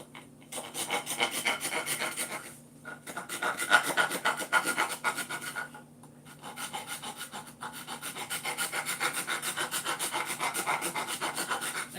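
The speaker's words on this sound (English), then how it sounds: "And then I grab my sandpaper." Sandpaper rubbing on poplar wood for a handmade guitar build, steady rhythmic back-and-forth rasping strokes close up, in three long runs with brief pauses between them, no voices.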